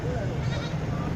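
A goat bleats at a busy livestock market, a single drawn-out, wavering cry up close over a dense background of crowd noise and voices.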